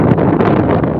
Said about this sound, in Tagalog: Ang lakas ng hangin talaga guys.